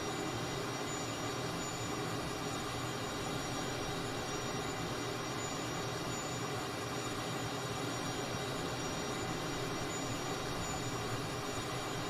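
A steady, unchanging jet-engine drone inside the cockpit of a Cessna T-37 Tweet in a freeware flight simulator game, a dense constant hum with a thin high whine, even and continuous throughout with no speech.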